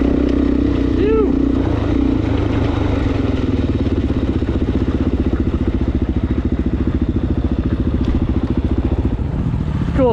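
A Suzuki DR-Z400S dual-sport motorcycle riding through desert in third gear, its single-cylinder engine drumming loud and steady throughout with wind buffeting, close to the rider.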